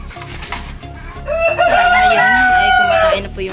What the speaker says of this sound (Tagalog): So ngayon, yan na yung mga inahin.